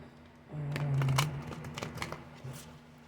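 Tarot cards shuffled by hand in a deck, giving a rapid, papery flutter of riffles and taps over about two seconds against a steady low hum, with no talking.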